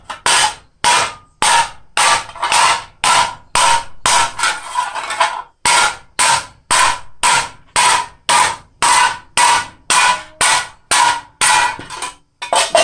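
Scrap copper is hammered on the flat face of an anvil in a long run of sharp, evenly paced blows, close and loud, with one brief pause partway through and no talking.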